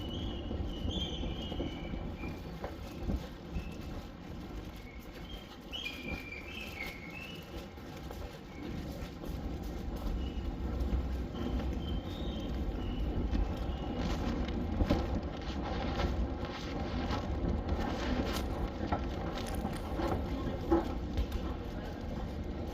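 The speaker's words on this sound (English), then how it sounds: "So, oh, train coming. This is the one I need." A metro train arrives at a station, a low rumbling rolling approach that builds gradually, with faint clanks and squeals of the wheels, and a hum of station noise underneath.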